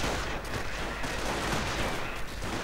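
Airborne infantry firing in a World War II strategy game: dense, continuous rattling gunfire that fills the clip at steady loudness, with no pauses and no talk.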